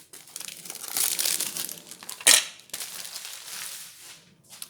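Plastic packaging of a new craft box crinkles and crackles as it is opened, with steady rustling and one sharp, loud crunch partway through. The sound is close and has no talk over it.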